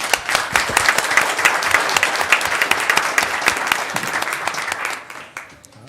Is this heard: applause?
yes